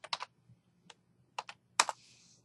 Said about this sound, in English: I just type in Downs